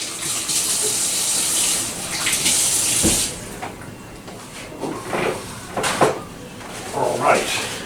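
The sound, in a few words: tap water running while washing vegetables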